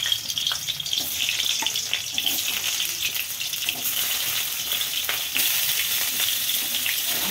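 Potatoes fry in oil in a wok (kadai) at an outdoor picnic, giving a steady, dense sizzle with crackling that runs unbroken throughout, with no voices.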